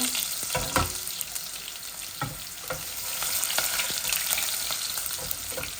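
Garlic frying with pabda fish in a thin pot, a steady sizzle with frequent stirring clicks and scrapes, close and fairly loud, no talking.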